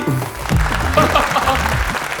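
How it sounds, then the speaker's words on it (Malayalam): An audience claps at a stage event, a short dense burst of applause mixed with overlapping voices. "നല്ലൊരു കൈയടി."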